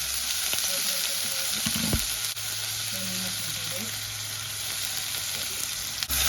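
Ridge gourd peel sambharo with red chillies and turmeric stirred in a hot pan, a steady close sizzle with a few scraping clinks of the spoon early on.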